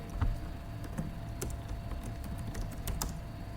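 Steady clatter of keystrokes on a computer keyboard while a git commit message is typed, quick irregular taps close by and fairly soft over a faint background hiss, no voices.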